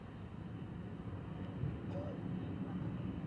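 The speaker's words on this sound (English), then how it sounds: "Really whacked on the reverses as well." A Qatar Airways Airbus A350-1000 landing at Manchester Airport with heavy reverse thrust, a broad low roar holding steady at a distance, with a voice briefly over it.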